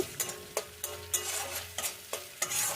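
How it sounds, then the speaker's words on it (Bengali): Ginger garlic paste frying in oil for a Bengali prawn dish, a continuous close sizzle punctuated by regular scraping strokes of a spoon against the pan, with no voices. "এবার আদা রসুনটা একটু ভালো করে ভেজে নেব"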